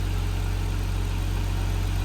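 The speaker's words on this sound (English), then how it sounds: "I can hear the exhaust and you can hear the engine." A Nissan R34 Skyline engine idles steadily, with a deep, even low-frequency exhaust drone and constant mechanical hum close by, no talking.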